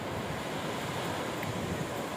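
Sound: sea waves crashing on beach

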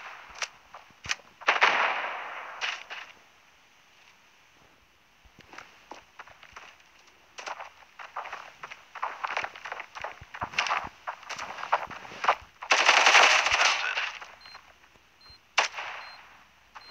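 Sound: machine gun firing in the video game Standoff 2

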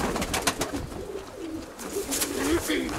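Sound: show pigeons cooing in a loft

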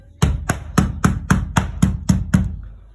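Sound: hammer or plastic mallet tapping on PVC window part

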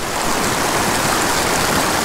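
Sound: flowing stream water

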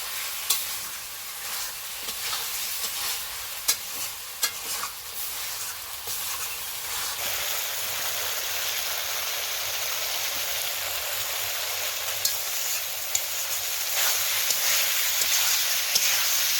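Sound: potatoes frying with spices in a pan

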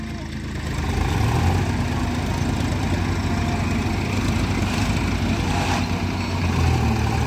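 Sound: tractor engine running

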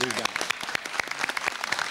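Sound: studio audience applause

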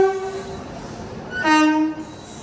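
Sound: Pallavan Express train arriving at platform with horn

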